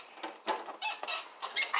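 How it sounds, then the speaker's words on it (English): A squeaky chair creaking in short, irregular bursts of high squeals as someone shifts their weight on it, close and fairly loud with no talking. "This chair's really squeaky,"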